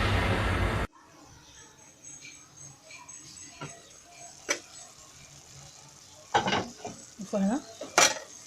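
A meatless lentil bolognese sauce in a pan opens with a loud sizzle, then a spoon scrapes and stirs in short, quieter bursts, with faint background voices.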